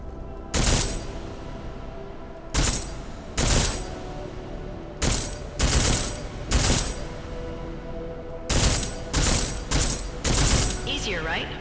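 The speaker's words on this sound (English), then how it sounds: "Let's try armor piercing this time. Ammo type to armor piercing." Armor-piercing rounds are fired in Deus Ex: Mankind Divided as loud, separate bursts of gunfire, some single shots and some quick clusters, with short pauses between them.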